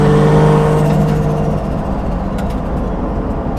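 A loud car engine with no air filter roars close by, revving high and then settling to a steady, raspy drone with an airy intake hiss.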